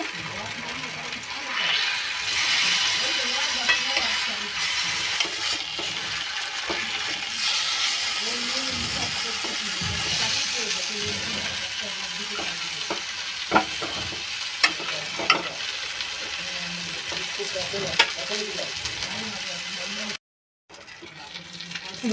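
Brinjal frying in a pan for a Bengali begun bharta, a steady, close sizzle that runs for about twenty seconds with scattered stirring clatter and an abrupt brief drop near the end.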